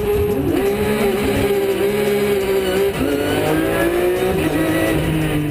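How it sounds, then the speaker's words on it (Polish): A race car launches from the start with the throttle held wide open, its engine roaring loud and close in a high, sustained howl that climbs through rising pitches as it pulls away, with no voices. "w momencie samego startu trzymamy cały czas pełen gaz i w zasadzie sam start regulujemy już tylko i wyłącznie sprzęgłem"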